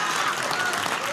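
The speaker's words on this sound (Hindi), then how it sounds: "जो बच्चे ताली बजा रहे हैं" Children clap together in a dense, continuous burst of applause that fills the whole short moment.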